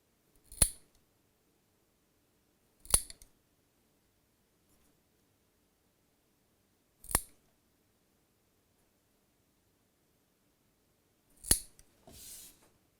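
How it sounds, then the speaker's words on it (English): Cutters snip through cotton wick tails on a Nucleus dripping atomiser prototype, with four sharp isolated clips spaced seconds apart in a quiet room and a short rustle at the end. "what I'm going to do is just take a pair of cutters and trim them up a little bit"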